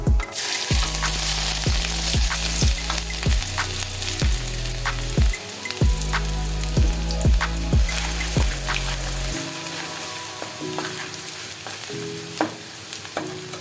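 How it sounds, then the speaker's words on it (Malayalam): Mustard seeds splutter and pop in hot oil as garlic and ginger fry for a Kerala fish curry, giving a steady close sizzle with repeated sharp crackles and stirring; no voices. "കടുക് പൊട്ടി വരുമ്പോൾ അതിലേക്ക് വെളുത്തുള്ളിയും ഇഞ്ചിയും ചേർത്ത് കൊടുക്കാം."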